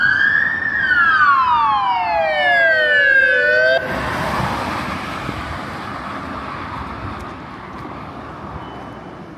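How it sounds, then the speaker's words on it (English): Ambulance siren wailing loudly as it passes on a road near Windy Hill, its pitch sweeping up and down in a slow yelp, then cutting out abruptly and leaving a broad rush of traffic noise fading away. "There's an ambulance coming from Windy Hill towards town"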